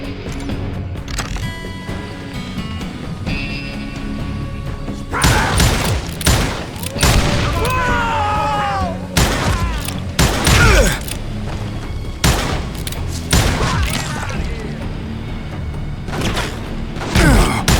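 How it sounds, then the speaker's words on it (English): Western-themed Call of Juarez Gunslinger gunfire erupts in loud, sharp volleys of pistol and rifle shots, scattered bursts with pauses between, over low ambient game sound and occasional distant voices. "We're under fire!"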